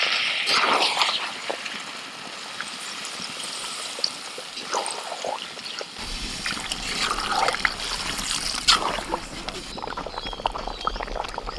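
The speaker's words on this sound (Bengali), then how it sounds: "চিকেনটা কষানো হয়ে গেছে এবার এর মধ্যে আমি জল দিয়ে দিচ্ছি" Water being poured into a pan of cooking chicken, a continuous trickling and splashing near the pan that turns into a louder bubbling sizzle partway through.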